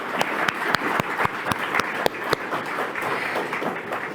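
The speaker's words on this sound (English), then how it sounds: "I think that we can give another applause to the performers" An audience at an award ceremony at the Prague European Summit applauds dance performers, a steady wash of clapping with a few sharper, louder claps standing out near the front.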